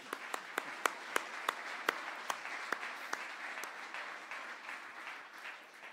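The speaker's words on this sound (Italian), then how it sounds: "Applauso per scaldare l'ambiente." A scattered round of hand clapping, with distinct individual claps standing out over a steady wash of applause that slowly fades.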